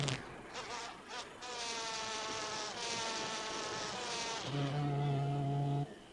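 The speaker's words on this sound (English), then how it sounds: "She hugs the yellow anthers, buzzes to a different frequency, and its precise vibrations trigger a shower of pollen." A female carpenter bee buzzes loudly and steadily while clinging to yellow flower anthers on the Cape Peninsula, South Africa, her drone shifting pitch midway into a deeper, more intense sonication buzz before cutting off.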